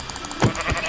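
A sheep in Minecraft gives a short, single bleat, close and moderately loud, in a brief moment with no talking.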